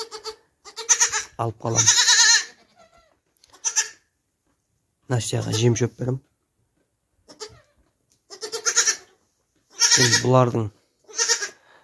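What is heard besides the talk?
goats bleating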